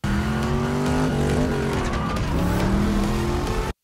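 A car drifting in a chase scene from the film John Wick 4 around the Arc de Triomphe, loud engine revving with pitch sweeps and squealing tires, continuous for several seconds.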